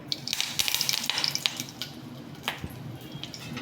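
Curry leaves hit hot oil with a burst of loud crackling and spitting, which settles into softer, scattered pops and sizzles.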